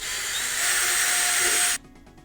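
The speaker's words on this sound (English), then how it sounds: "Now hopefully we can drill into the end cap." A power drill whines steadily as it bores into an aluminum end cap for a jet pack prop, sounding loud and close for under two seconds before cutting off abruptly.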